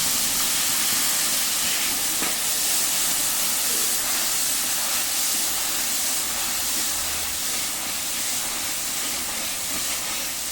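Water poured onto mustard paste in a hot large kadai sends up a loud, steady sizzling hiss that stays strong and continuous for about ten seconds, with no voices over it.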